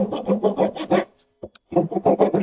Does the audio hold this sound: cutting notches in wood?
yes